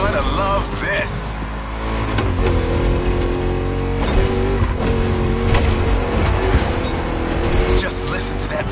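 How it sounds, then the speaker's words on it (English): V8 car engine roaring in the racing video game Motorfest, a loud, continuous deep growl that rises and falls as it revs through gears, with a voice talking over it and faint game music. "Just listen to that V8 like a chunky, down-tuned guitar riff."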